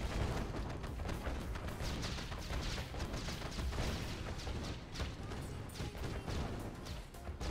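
A French cannon in the Red Alert 2 video game fires repeatedly over a dense battle din, with heavy booming blasts and crashes running through continuously at close range.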